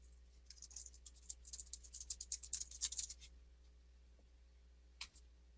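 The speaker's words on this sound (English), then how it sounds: "I can type that real quick" Someone types quickly on a computer keyboard, a burst of rapid light clicks and taps in a quiet room, followed by a lone keystroke after a short pause, with no voices.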